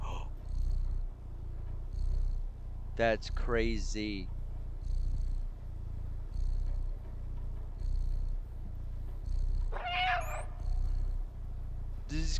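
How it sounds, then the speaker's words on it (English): A cat in the video game Stray purrs as a steady low rumble that runs throughout, with brief game chimes and a person talking over it. "Oh, he's purring."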